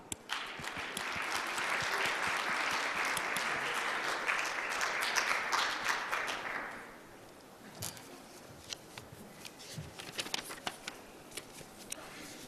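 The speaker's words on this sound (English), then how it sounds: "Please join me in welcoming the Ambassador to the stage with a warm round of applause." A dinner-session audience at an international conference applauds to welcome an ambassador to the stage: dense, steady clapping for about seven seconds that then fades out, leaving scattered claps, a few knocks and quiet room noise.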